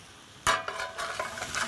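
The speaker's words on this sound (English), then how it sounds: "and now I hear it sizzling." Tomatoes hit a hot pan with a sudden burst of sizzling, followed by a steady, moderate frying hiss broken by a few stirring scrapes.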